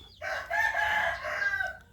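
A Burmese fighting rooster crows once, loud and close, its drawn-out call rising and then trailing off over a quiet background.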